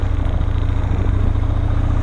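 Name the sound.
motorcycle engine idling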